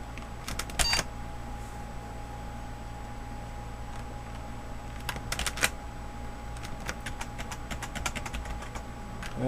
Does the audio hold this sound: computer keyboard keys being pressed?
yes